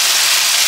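Onion paste hits hot oil with a loud, steady, close sizzle that fills the brief moment.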